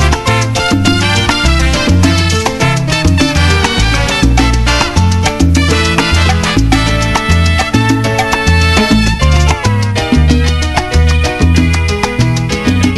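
Loud, full-band Mexican regional song playing on the radio, with a steady bouncing bass pattern under bright, busy instrumentation.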